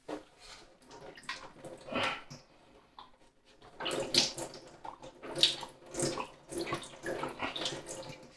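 Sanitizing water runs and spurts through an upside-down Pinter home-brewing keg pressed by hand, coming in irregular gurgling splashes and trickles, fairly faint and close, with brief lulls between bursts.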